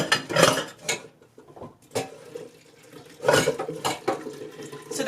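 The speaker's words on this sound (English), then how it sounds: "I'm going to fill up my tea kettle." A tea kettle filled from a kitchen tap: a close splash of running water that stops and starts again, with brief clinks of dishes between the bursts and no talking.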